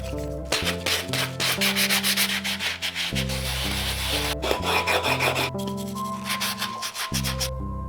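Aluminum C-stand part being sanded on its outside surface, a loud, steady rasping scrape in repeated back-and-forth strokes with brief pauses, close up and without speech.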